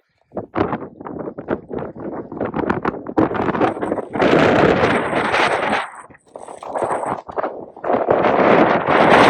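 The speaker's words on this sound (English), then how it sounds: "It's very windy." Strong gusts batter the microphone on an exposed hill in the Peak District at night, loud buffeting roar that surges and drops in waves, with rustling and a few dull knocks between blasts.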